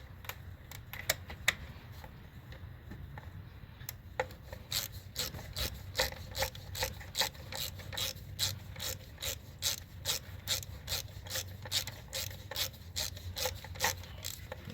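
A ratchet wrench clicks in a quick, regular rhythm while spark plugs are tightened on a 2009 Jeep Compass, the crisp ticks fairly close over a quiet low background, with a few scattered scrapes before the steady ratcheting settles in.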